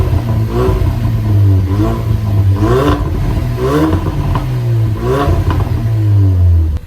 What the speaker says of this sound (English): let's have a quick listen to what the standard exhaust sounds like